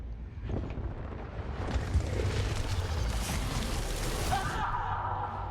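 Helicopter in a shooter video game: a steady, loud rotor-and-engine drone fills the whole stretch, with wind-like rushing and a brief tonal whine near the end.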